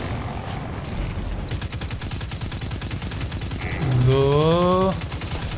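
Rapid automatic gunfire from the video game Destiny 2 on Nessus, a steady rattling burst running throughout, with a rising electronic whine near the end and brief talk over it.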